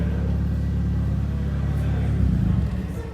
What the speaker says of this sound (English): More sexy cars like this S15 is showing up now.